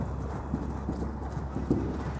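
Hooves of a ridden horse clip-clop steadily in a training session, a run of soft, evenly paced thuds heard close by over a low, steady background rumble.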